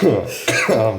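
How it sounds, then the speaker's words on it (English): A person gives a short, rough cough with some throat clearing, close and loud, and a voice then begins to speak. "What do you say when someone's coughing?"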